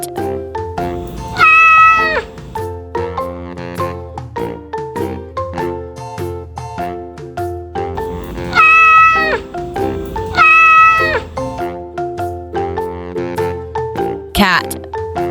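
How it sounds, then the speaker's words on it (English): A cat meows repeatedly in loud, drawn-out calls set to a looping musical backing track for a children's farm animal sounds piece. "Cat."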